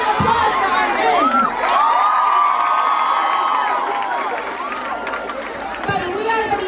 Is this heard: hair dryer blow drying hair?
no